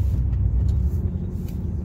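Steady low exhaust rumble of a RAM pickup with a 5.7 HEMI V8 and Thrush Rattler mufflers, heard from inside the cab with the windows up, droning evenly and close with no talk.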